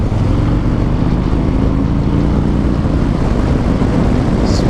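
A 2019 Harley-Davidson Fat Boy motorcycle rides through town, its engine drone loud and steady with heavy low rumble and wind blended in throughout, no voices.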